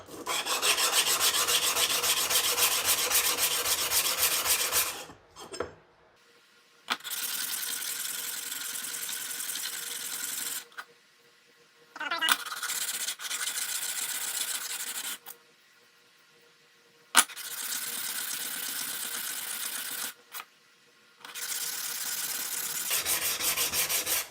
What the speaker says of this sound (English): we're just going to run this over this flat block of sandpaper to clean up the face of them